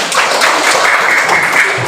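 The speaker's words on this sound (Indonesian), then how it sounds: "Tepuk tangan" Students clapping together in a classroom, a brief loud burst of hands that runs steadily through the moment, close and uneven.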